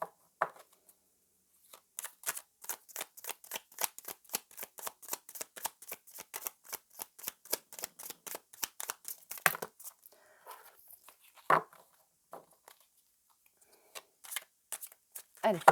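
A deck of tarot-style cards being riffled and shuffled by hand, a long rapid train of close, crisp flutters that pauses briefly, then a few scattered shuffles and taps, with a quiet voice now and then.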